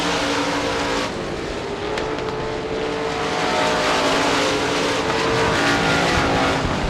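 Modified race cars with V8 engines roar continuously around the Devils Bowl Speedway dirt oval, a loud, steady engine drone close by that swells slightly as the cars pull away through the corners.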